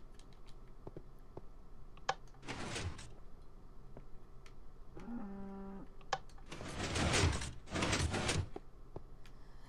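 Hidden redstone doors in Minecraft on Xbox 360 slide open and shut, three short bursts of grinding piston sound separated by quiet stretches, with a brief tonal hum between them.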